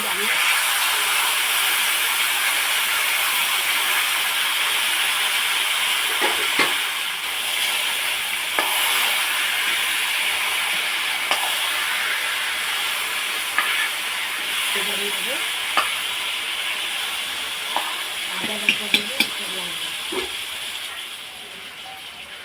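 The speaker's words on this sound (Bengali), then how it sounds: "এবার এর মধ্যে কচু শাকগুলো দিয়ে দেব, জল ঝরানো কচু শাক।" Drained taro leaves hissing and steaming as they fry and are stirred in a pan with panch phoron, bay leaf and chilli, a continuous sizzle with occasional faint clinks of the spoon.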